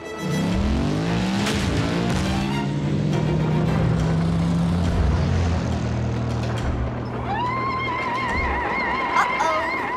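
A cartoon robot transformed into a motorbike revs its engine, a loud continuous roar with rising and falling pitch sweeps, ending in a high whine, heard close and alone.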